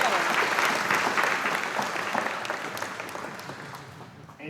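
Applause from an audience at a Black History Month school assembly, a dense clapping burst that starts strong and gradually tapers off over several seconds, with faint voices under it.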